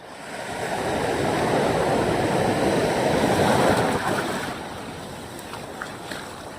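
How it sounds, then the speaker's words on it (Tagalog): Big ocean waves surging and washing around a small fishing boat, a broad rushing swell building loud and then easing back to a softer wash. "Ay, lalaki na naman ng alon."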